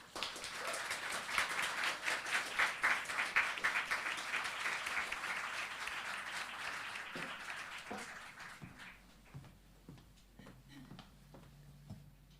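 A poetry-reading audience applauds to welcome poet Connie Roberts at a Great Writers, Great Readings event: steady, dense clapping fills the room, then thins to scattered claps and fades out.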